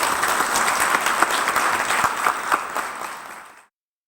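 Studio audience at a Korean news talk show breaks into steady, dense applause that carries for about three and a half seconds before cutting off abruptly.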